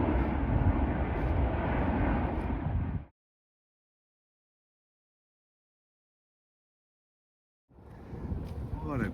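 An aircraft passing over a walking route near a flight path, a broad engine rumble with wind buffeting the microphone that cuts out abruptly into silence, then resumes more faintly with a voice.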